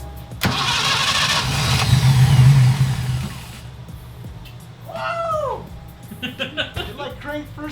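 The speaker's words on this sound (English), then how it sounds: "It like cranked first try and it almost started." A Datsun 240Z engine cranks with the starter whirring for a few seconds and briefly catches before dying, loud and close, followed by quieter clicks and a meow-like squeal.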